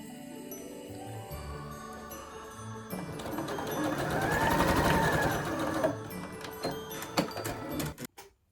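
A sewing machine stitches a fabric ruffle stocking with its tab laid flat, running in a steady continuous whir that builds through the middle and trails off with a few clicks near the end.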